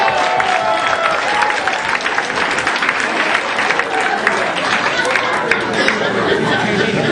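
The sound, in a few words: comedy club audience applause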